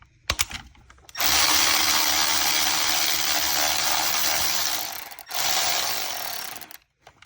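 Working on a coolant cross pipe replacement, a ratchet with a deep well socket turns a bolt after a few sharp clicks. Two long, loud, close stretches of steady mechanical whirring follow, separated by a short pause.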